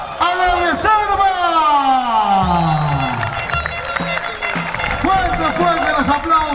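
Crowd applauding and chanting at the presentation of Unión Huaral's reserve football team, with a band present; an energetic mix of claps and cheers runs throughout beneath a loud, sweeping announcer voice.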